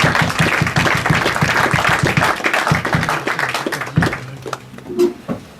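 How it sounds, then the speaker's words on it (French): A congregation at a French-language church service claps and cheers in praise for several seconds. The applause is dense and rhythmic, then thins out with a few scattered voices. "Acclamez un peu pour la gloire du Seigneur"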